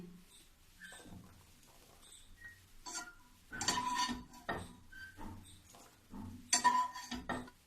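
A spoon scrapes and clinks against a metal pan and bowl as lightly fried raisins are scooped out, in a series of sharp, close, irregular taps.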